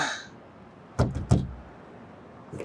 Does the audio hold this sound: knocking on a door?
yes